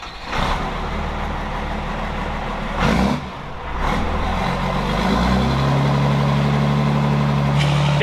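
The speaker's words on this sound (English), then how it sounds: "He said 1500 RPM, 10 minutes, that'll be the cam break in, and then shut it off." Newly built Cummins diesel engine running for camshaft break-in, a loud, steady rumbling idle rising to a higher, sustained drone, with a few brief clanks and hisses early on.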